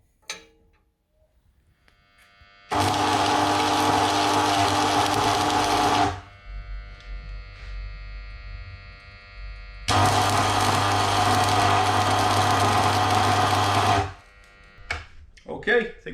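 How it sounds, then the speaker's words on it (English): Welding collars onto a Harley-Davidson sissy bar luggage rack: two sustained, steady bursts of buzzing, crackling weld arc, each lasting several seconds, separated by a short pause with faint low rumble and small clicks. "So I'll go ahead and weld them on"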